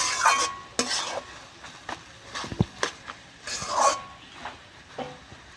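Papaya ghonto with peanuts and a little sugar is stirred in a pan: a spatula scrapes and taps in uneven strokes over a faint sizzle, close by, with no one speaking.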